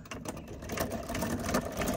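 A brushless motor runs in a Segway Ninebot ES2 electric scooter, giving a rapid, even mechanical whirr with a fast repeating clatter, close and moderately loud.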